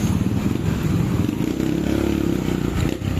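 Motorcycle engine revving on a road test after a carburetor main jet change, a loud, close, throbbing low rumble that rises and holds with a gritty, rattling edge.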